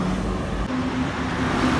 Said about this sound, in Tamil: ஆனால் செம்ம டிராஃபிக்குங்க மின்னல் வேகத்தில் வண்டி ஓட்டுறாங்க